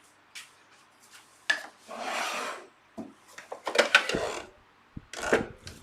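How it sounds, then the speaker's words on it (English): A hand tool trims a small amount off a piece of timber for a dovetailed secrets box, giving short rasping strokes in irregular bursts with brief pauses between them, close and moderately quiet. "I'm just going to trim the tiniest little bit off."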